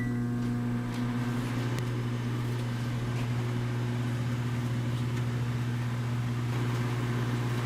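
A microwave oven runs while heating frozen pizza, giving off a steady, loud electrical hum with a low drone and faint whirring throughout, close and unbroken, with no talking.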